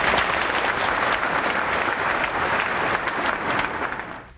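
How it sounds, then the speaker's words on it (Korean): A large audience claps in sustained applause, a loud, dense patter that holds steady and then tapers off at the end. "스승님을 환영하는 박수를 한 번 더 해주시기 바랍니다."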